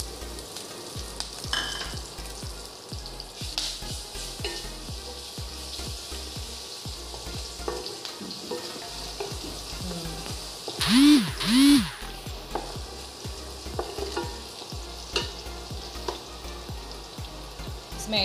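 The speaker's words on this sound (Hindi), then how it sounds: "हमारा तेल हो गया गरम। मैं इसमें डालूंगी जीरा, ये लहसुन का पेस्ट और हरी मिर्ची।" Cumin, garlic paste and green chillies fry in hot oil in a kadai, a continuous close crackling sizzle with repeated stirring scrapes and a couple of louder bursts midway.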